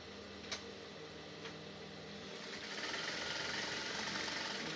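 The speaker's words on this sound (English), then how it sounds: "Then I drop my machine and I sew again." A sewing machine stitches fabric for a kaftan maxi dress, a steady fast mechanical whirr with a couple of faint clicks early on, running quietly and alone.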